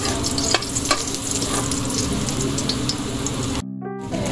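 Onions frying for pancit canton, a dense steady sizzle with stirring scrapes in the pan, loud and close, briefly dropping away near the end.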